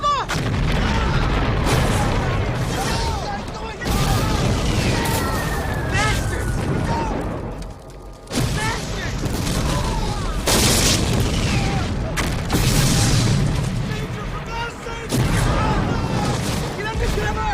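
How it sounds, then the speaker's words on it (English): Artillery bombardment in a war film: repeated heavy booms and rumbling blasts roll through a dense battle din, with shouted voices mixed in throughout. "Our guys are bombing us!"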